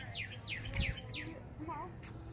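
A songbird sings in Saguaro National Park, a run of four clear descending chirps followed by softer warbled notes, close and distinct over faint outdoor background.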